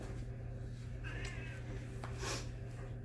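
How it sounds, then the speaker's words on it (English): Domestic cat meowing indoors, two faint, brief meows against quiet background hum. "Can you hear my cat? My cat wants to go outside"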